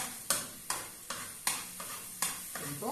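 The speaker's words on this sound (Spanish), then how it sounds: "sofriendo nuestro ajo. Ya comenzó a sofreír." Garlic sautés in hot oil, a soft sizzle broken by regular stirring scrapes roughly every half second, with each stroke making a short rasping burst, quiet and close with no voices.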